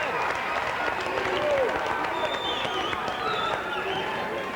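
A high school boys basketball crowd in a gym cheers and claps after a made shot, a broad wash of applause and shouting that stays steady throughout, with a commentator talking over it.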